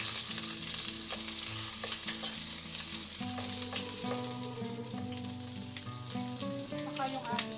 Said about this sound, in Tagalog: igisa or isusutay natin yung ating garlic. Yung ating pulang sibuyas.